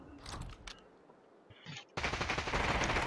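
Gunfire from a squads battle royale video game: a few scattered shots and clicks, then a sudden burst of dense, continuous rapid-fire shooting that stays loud and close to the end, with no voices.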